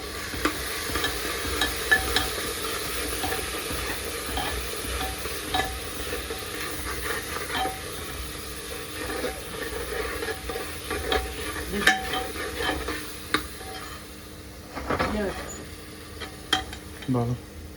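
Food frying in a pan with turmeric powder while it is stirred and mixed: a steady sizzle with repeated scraping strokes and clinks, moderately close and continuous.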